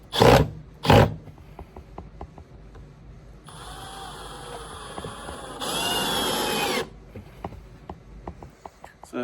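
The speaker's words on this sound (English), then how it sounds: "Now we'll put some screws down." Power drill driving screws into a wooden model road base, two short loud whirring bursts followed by two longer sustained high-pitched drilling runs, with light clicks and handling noises between them.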